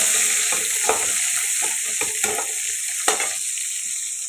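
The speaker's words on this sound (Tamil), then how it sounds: "வெங்காயமும் பூண்டும் நல்லா வதங்கட்டுங்க" Small onions and garlic cloves sauté in a pan with a steady sizzle, broken by a few sharp scrapes of stirring. No one speaks.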